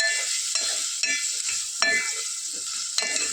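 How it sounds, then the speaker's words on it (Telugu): Chopped tomatoes frying in a pan at home, a bright continuous hiss of sizzling oil close by, with soft stirring scrapes popping through every second or so. "టమాటాలు వేసి ఒక టూ మినిట్స్ ఫ్రై చేసుకోమన్నారు"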